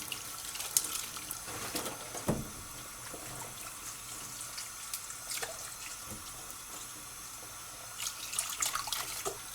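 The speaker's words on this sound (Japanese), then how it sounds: "続いてらっきょうをこのようにこするようにして洗っていきます。" Rakkyo shallots are rubbed and washed by hand under a running kitchen tap, a steady hiss of flowing water with small splashes and knocks throughout.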